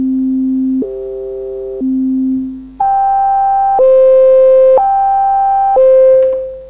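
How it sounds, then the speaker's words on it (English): A synthesizer tone whose filter jumps between two notes an octave apart, driven by a square-wave LFO, stepping in an even rhythm of sustained buzzy pitches that shift higher partway through, clean and loud with no talk. "the filter frequency will switch between two notes one octave apart"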